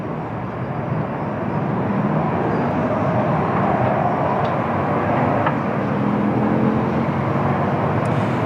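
A Lufthansa Airbus A320neo departing Lisbon Airport for Frankfurt on a windy day: a loud, broad, continuous jet roar that swells and holds steady, mixed with wind noise.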